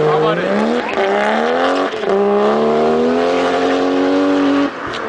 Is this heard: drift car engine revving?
yes